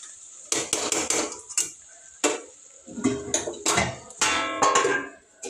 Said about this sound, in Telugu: మూత పెట్టేస్తాను.